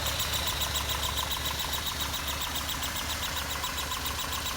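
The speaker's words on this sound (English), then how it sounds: "that little chirping, I've been told that that's because of the trumpets on the air intake manifold there" A 1975 Lancia Fulvia engine idles steadily up close, a light, regular chirping from its air intake trumpets riding over the even rumble throughout.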